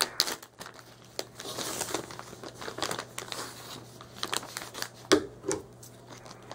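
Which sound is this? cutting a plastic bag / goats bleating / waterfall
cutting a plastic bag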